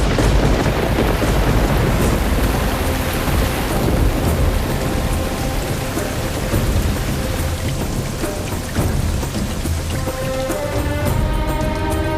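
Heavy first monsoon rain pours down in a drought-hit region of India, a dense steady roar of rain on surfaces with deep rolling thunder underneath, loud and continuous throughout, with no voices.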